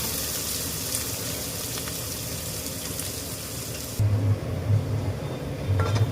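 Onions frying in a pan for a spicy chicken curry give a steady, loud hiss and sizzle that runs throughout, swelling slightly near the end.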